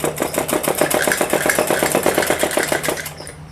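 A sewing machine stitching fabric for a plain suit, running in a fast, even, loud mechanical rhythm of rapid needle strokes close by, then slowing and stopping near the end.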